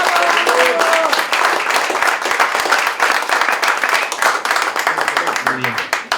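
Loud, dense applause fills a hall at a ceremony awarding seniority medals to teachers. The clapping is close and continuous, and faint voices show through near the start and the end.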